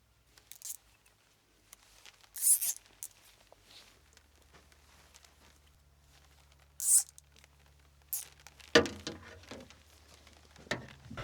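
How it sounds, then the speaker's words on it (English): A zip tie being pulled tight while tidying a hydraulic line: several short, raspy ratcheting zips separated by quiet handling noises, close by. "I feel like this zip tie is a touch overkill for this"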